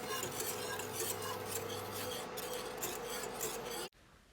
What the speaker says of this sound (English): Keep stirring it on low flame